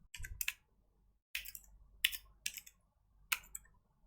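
Keys on a computer keyboard being typed while writing Django code, heard in short clattering bursts with brief pauses between them, close and fairly quiet, with no talking.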